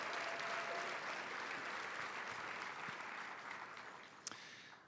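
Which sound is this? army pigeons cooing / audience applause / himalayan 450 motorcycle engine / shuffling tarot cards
audience applause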